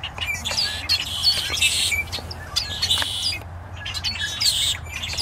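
A busy flock of small birds chirps and tweets in quick overlapping bursts, high and fairly close, over a low steady background hum.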